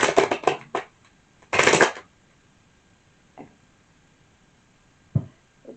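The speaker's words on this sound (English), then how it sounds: "Give it another shuffle." Tarot cards being shuffled by hand: a quick run of riffling bursts, a pause, then a longer dense shuffle, followed by a few soft isolated taps and card placements, close and with no talking.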